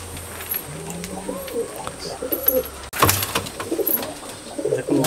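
Pigeons coo repeatedly in a backyard loft in Falta, South 24 Parganas, where young birds bred from black pigeons are kept; soft, close calls recur over a steady low background, with faint human voice murmur.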